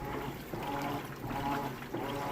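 Water sloshes and trickles continuously inside a Roper washing machine drum during the wash cycle, a steady churning wash sound up close.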